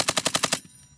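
Short burst of about six rapid, loud, close shots from a .50 cal machine gun mounted on a Humvee, ending abruptly into a faint ringing tail.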